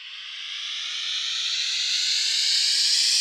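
Synth riser transition effect built in Serum, a steady noisy hiss that slowly swells in loudness and climbs gradually in pitch over a few seconds, heard alone.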